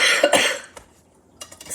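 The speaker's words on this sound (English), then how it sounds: "I feel a cough coming on" A single person's cough, a short burst at the start followed by quiet handling clatter and faint knocks, near and fairly loud, with no talking.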